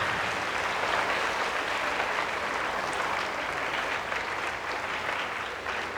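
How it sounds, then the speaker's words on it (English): Sustained audience applause after a talk, a dense, even wash of many hands clapping for six seconds without pause, steady in loudness and only easing slightly toward the end. "can I give them a round of applause?"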